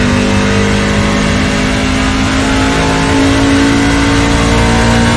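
A car engine drones loudly and continuously while driving on a racing track, a steady mid-pitched hum with slight rises in revs, close and unbroken throughout.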